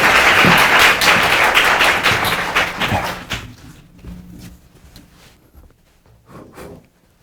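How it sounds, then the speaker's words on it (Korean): Audience applause at a public lecture on modern criminal law history, loud and sustained clapping from a crowd that gradually thins out into scattered claps and fades away. "강연을 큰 박수로 맞이하도록 하겠습니다"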